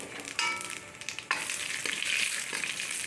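Dried chili and nigella seeds hit hot mustard oil, bursting into a sharp sizzle that jumps louder partway through and keeps crackling steadily up close, with no voices.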